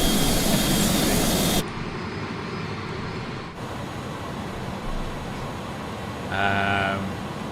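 An iniBuilds Airbus A300 in Microsoft Flight Simulator gives a steady, loud jet-engine roar that shifts in tone partway through, with a tonal whine rising near the end.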